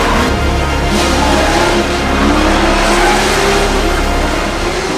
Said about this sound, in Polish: Auto Tomka Olejnika idzie w ruch.